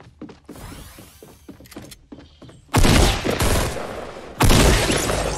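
Gunfire in Fortnite: a rapid series of sharp submachine-gun shots, followed by two loud, heavy blasts, likely from a shotgun, each trailing into dense noise.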